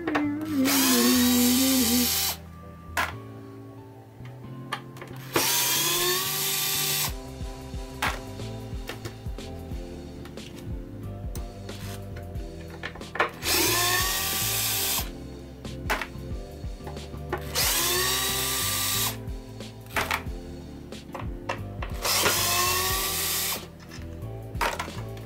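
A power drill backs screws out of a 1974 Williams Star Action relay board, with several loud bursts of whirring separated by short pauses and quieter handling sounds, all close up with no voices.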